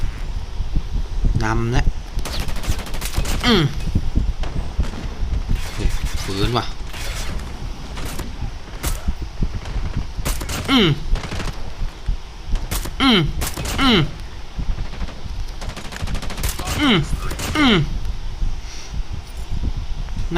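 Arctic .50 rifle shots in Call of Duty Mobile come as scattered sharp cracks with bolt-cycling clatter between them, heard under someone talking in Thai over steady wind-like game ambience.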